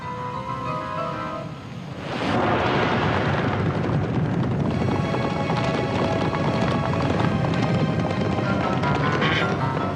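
Several horses gallop away in a cartoon chase, a rapid, loud, continuous clatter of hooves that breaks in suddenly after a quieter opening and keeps up without pause to the end.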